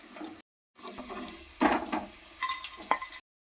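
Besan dough frying in hot oil in a wok, a close crackling sizzle broken by a brief silence, with occasional scrapes and clinks of a utensil against the pan.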